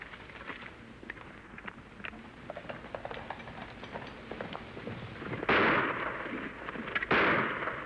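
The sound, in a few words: gunshots in radio drama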